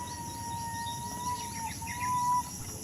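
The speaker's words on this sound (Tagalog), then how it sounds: "Ang maririnig natin mga huni ng ibon." Birds chirp and call softly in a quiet outdoor setting, with a thin whistled note and faint insect buzz in the background.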